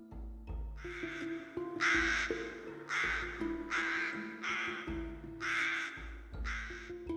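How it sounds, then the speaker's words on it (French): A crow in a dark forest caws harshly about six times in an uneven rhythm, close and clear, over a low, sustained musical drone. "le croassement sinistre d'un corbeau invisible déchirait l'air"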